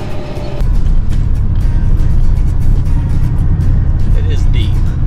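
A car pushes through deep snow with a steady, heavy engine drone and dense low rumble, loud and close from inside the vehicle, with scattered crunching and thumps over it.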